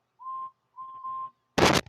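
A toy steam locomotive whistle gives two steady, clear tones, the second longer and slightly stepped, then a sudden loud noisy burst cuts in at the end.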